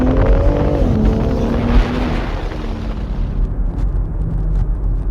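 A BMW X3 M F97 small SUV engine revs hard in its most aggressive drive mode with manual shifting, a loud close roar that climbs and then falls away into a rumbling, crackling exhaust.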